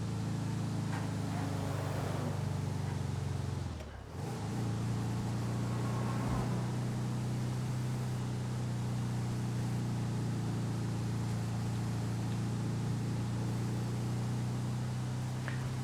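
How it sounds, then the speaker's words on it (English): Delivery van engine in a motorcycle-club business video game labouring up hills after a downshift, a steady low droning hum with broadband road noise, running continuously throughout with a brief dip early on. "I can hear the van engine struggling, just shifted down gear,"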